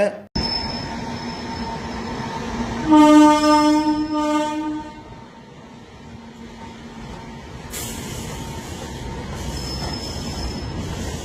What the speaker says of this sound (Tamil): முழு நிலக்கரியை ஏற்றி செல்லக்கூடிய சரக்கு ரயில் போக்குவரத்து இந்த வழித்தடத்தின் வழியாக துவங்கி இருக்கின்றது